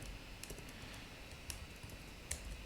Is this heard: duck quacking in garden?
no